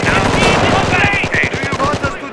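Rapid machine-gun fire in the Company of Heroes World War II strategy game, a loud, close burst of evenly spaced shots lasting the whole clip, with a unit voice line briefly over it.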